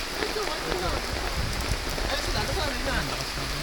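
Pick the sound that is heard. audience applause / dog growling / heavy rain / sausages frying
heavy rain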